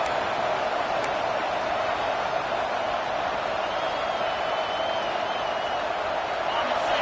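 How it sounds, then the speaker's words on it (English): A stadium crowd in the NCAA College Football 25 video game roars steadily and loudly for the full stretch, a dense, unbroken wall of cheering with no clear pauses. "This crowd, full throat, splitting the eardrums and letting them know it's going to be a long day."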